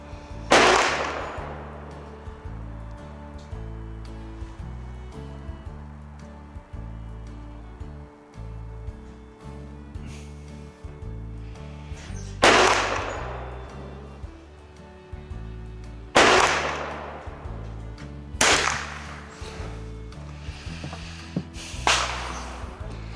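Sharp cracks from a Voere .22 target pistol fired at a range, about five spaced shots over roughly twenty seconds, each loud and close with a short ringing decay.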